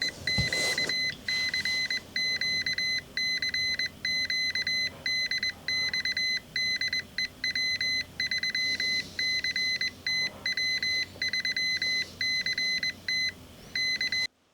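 Rapid Morse code beeps played back from a Pico keyer on a Xiegu G90 radio, a steady high tone keyed in dots and dashes over faint background noise, continuing for the whole stretch.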